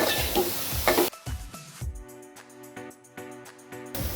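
Jaggery and grated coconut modak filling stirred in a pan, scraping and stirring at close range at the start and end, with a stretch of background music in between.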